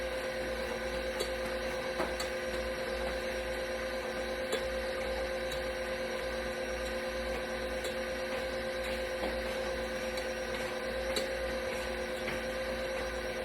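Electric mixer running on low speed while making a dairy-free apple cake batter, a steady motor whir and hum holding constant throughout with faint periodic clicks, no talk.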